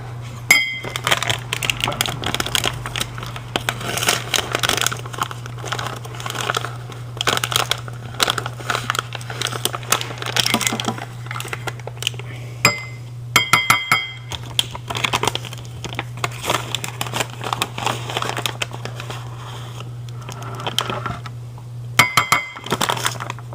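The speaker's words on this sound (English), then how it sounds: "I'm gonna add it to this cup, and then I'm gonna mix it up with some milk" A metal spoon clinks against a cup while stirring custard into milk, producing rapid, close clattering taps and scraping in uneven bursts over a steady low hum, with no voices.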